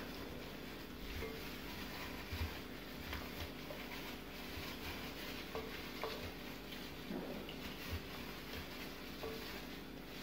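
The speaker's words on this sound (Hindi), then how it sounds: "अब इस सारे मसाले को अच्छी तरह से हम चिकन पे लगा लेंगे।" Tandoori masala with food colour being worked into raw chicken pieces by hand: soft, wet squelching and stirring that keeps going quietly and steadily, with occasional light clinks of a bowl.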